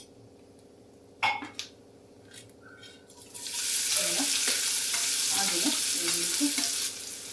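Chopped onion and capsicum sizzle loudly in a hot pan for gravy, with a few clanks and scrapes of stirring before and during the steady frying hiss; a brief word is spoken.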